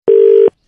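A single steady telephone tone sounds loud and close for about half a second after a phone is hung up, a flat electronic beep that stops abruptly.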